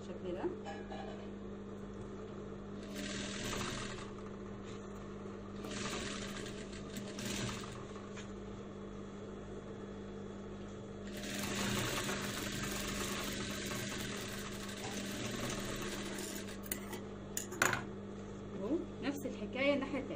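A sewing machine stitches summer shorts in short bursts of rapid mechanical chatter, with a longer run in the middle, separated by pauses, while someone talks throughout.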